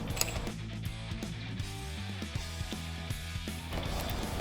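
Ratchet wrench clicking rapidly as it loosens the left-side subframe bolts on a 2024 65 SX dirt bike, close-up metallic ratcheting in quick bursts with short pauses, no talking.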